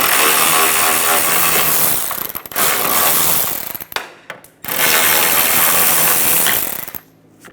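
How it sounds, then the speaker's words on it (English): Power tool, likely an impact wrench, running in long loud bursts while bolts are taken off the liftgate brackets of a 2014-2019 Toyota Highlander, with two sustained stretches split by a short pause. "Once you remove both sets of bolts off of both brackets"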